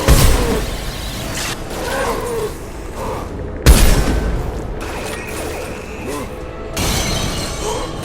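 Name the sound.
gunfire in the video game Mass Effect 2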